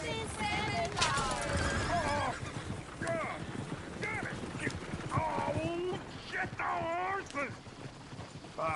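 A runaway horse pulling a buggy in Red Dead Redemption 2 neighs and squeals several times over the clatter of hooves, the whinnies rising loud and close in repeated bursts.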